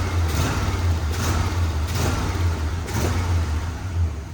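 Restored GMC truck engine from a grandfather's truck idling steadily in a smoky enclosed space, a loud continuous low rumble with faint periodic puffs, no talking.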